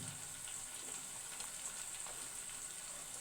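Soft, steady sizzle of a vegetable palya of sabbassige (dill greens) and onions frying in a pan, a faint continuous hiss with no talking.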